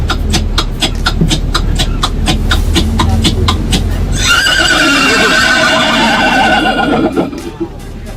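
A man imitates a horse with his voice, first making rapid rhythmic clip-clop trotting clicks, then a loud, wavering whinnying neigh, close and clear.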